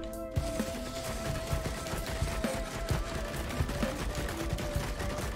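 Rapid video-game gunfire from an enemy turret in Risk of Rain 2 rattles in quick bursts of sharp shots, fairly loud over a busy game soundscape.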